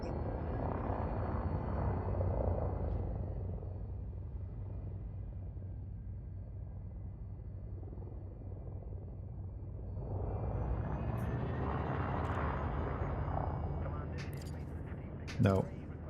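Spaceship engine in Elite Dangerous throttling up: a steady low rumble and hum that swells louder toward the end, with a brief sharp burst near the close, under a voice.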